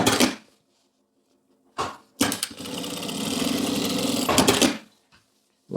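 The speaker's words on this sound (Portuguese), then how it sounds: "Eu gosto de passar uma costura de segurança, certo?" A sewing machine runs a safety seam along fabric edges while making a milk-carton craft box: short bursts, then a steady close whir of stitching for a couple of seconds, stopping and starting again.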